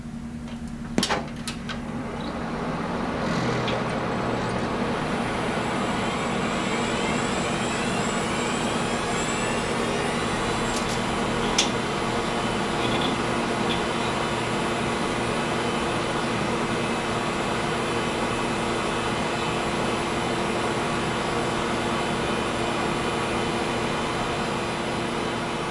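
A Pentium Pro PC with SCSI drives, stored in a shed for years, powers up: a few clicks, then a loud, steady whir of fans with constant drive hum that persists throughout, close by and without speech.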